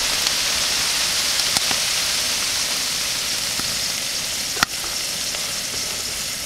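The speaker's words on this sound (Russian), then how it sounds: "Сначала лук жарить, потом морковку." Onion and carrot fry in a camp pot over an outdoor cooking fire, a constant close sizzle broken by a few sharp clicks and scrapes, with no talking.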